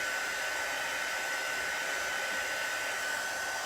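A heat tool blows continuously to dry a chalk transfer during a craft project, a steady loud whirring hiss with a faint whine that holds unchanged throughout, with no talking.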